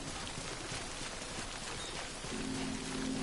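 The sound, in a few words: rain falling in the video game Death Stranding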